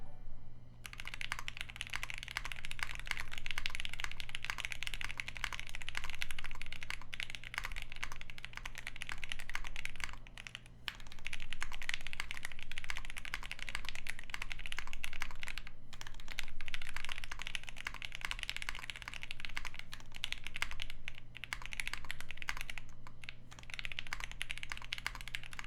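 Typing on a Polaris 60% keyboard with Alpaca switches and acoustic treatment, a continuous stream of fast, close, crisp keystrokes with brief pauses between bursts, and no talking.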